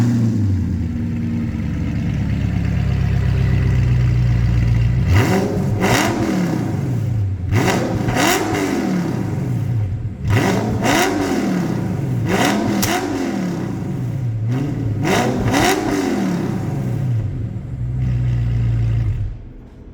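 A bagged Audi R8 supercar engine with custom exhaust is revved repeatedly in loud, rhythmic bursts, rising to a roar and settling back to a rumbling idle between each blip.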